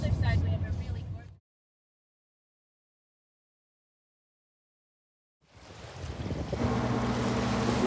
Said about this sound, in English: you watch waves on a rocky beach thing